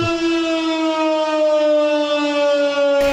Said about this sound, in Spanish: Estamos escuchando esa sirena.